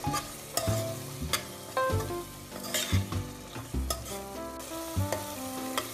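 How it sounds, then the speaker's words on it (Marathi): Homemade spice masala sautéing in oil for Maharashtrian misal, a constant close sizzle broken by frequent clinking scrapes of a spoon against the pan as it is stirred. "हे सुद्धा आपण तेलात व्यवस्थित परतवून घेऊया।"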